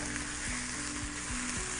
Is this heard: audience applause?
no